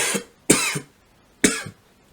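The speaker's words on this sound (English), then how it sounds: "just coughing here" Three sharp coughs, close and fairly loud, spaced unevenly with short silences between them and no talking.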